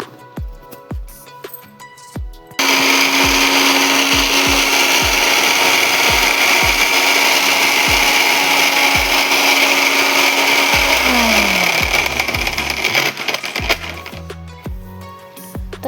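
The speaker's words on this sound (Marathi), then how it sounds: "ते आपण आता बारीक करून घेऊया मिक्सरमध्ये" A mixer grinder chops green chilies, garlic cloves, curry leaves and cumin, its loud steady whir running for about eight seconds then winding down, with clicks and handling knocks before and after.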